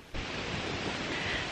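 A strong gust of wind roars against the microphone, a broad rushing noise that starts abruptly and holds steady.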